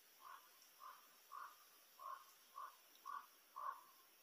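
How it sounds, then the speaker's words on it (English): A crow caws seven times in an even, steady rhythm beside a hiker on the Appalachian Trail. Each caw is short and harsh and sounds moderately distant, with no talking over it. "You hear that crow?"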